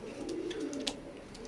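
A white golden pigeon coos softly and steadily at a distance, a low faint murmur with a few light chirps from other birds over it and no talking.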